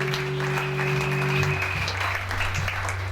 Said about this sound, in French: Acclame très fort pour le Seigneur Jésus, peuple de Dieu